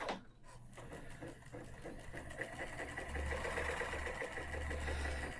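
Kenmore sewing machine running steadily with a stuck presser foot, a continuous mechanical whir and rapid rhythmic clatter close by, holding even throughout without pauses.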